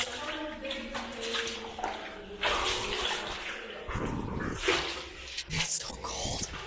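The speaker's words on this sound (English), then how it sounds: "I hear the water coming out" River water on the Black River splashing and gurgling close by, with voices talking over it and sloshing movement through the water.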